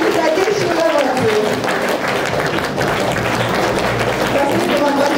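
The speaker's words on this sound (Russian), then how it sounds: "наш зал бурные аплодисменты передает нашим гостям" A concert hall audience applauding at an anniversary concert, a dense, loud, continuous wash of clapping from many hands, with voices mixed into the crowd noise.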